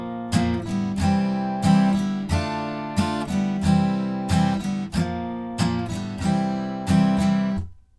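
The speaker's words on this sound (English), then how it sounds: "Now you can play all the chords with just that down, down, up strumming pattern" Acoustic guitar chords of a song strummed in a steady down, down, up pattern, bright and close, with the rhythm repeating evenly before the last chord rings out.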